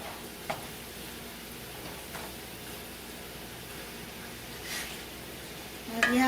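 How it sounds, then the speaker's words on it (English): Seasoned pork chops sizzling in a skillet, a quiet steady fry with a few soft stirring or tick-like taps, and a brief voice at the very end. "You're going to put it into the skillet."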